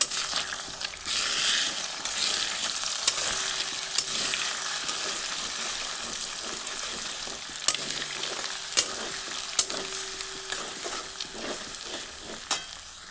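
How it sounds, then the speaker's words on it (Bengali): Egg frying in hot oil while being broken up and stirred for egg pasta, a moderate steady sizzle with intermittent scraping clicks of a spatula against the pan. "এবার ডিমটি ভালো করে ঘুরি করে ভেজে নিই।"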